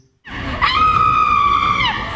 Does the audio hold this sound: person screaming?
yes